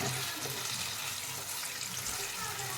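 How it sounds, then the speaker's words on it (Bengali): Water is poured from a yogurt bowl into a pan of onion and spice masala on low heat, making a continuous close splashing, running-water rush with no pauses. "আমি অল্প একটু জল দিয়ে দিলাম ওর মধ্যে, দইয়ের বাটিটার সাথে।"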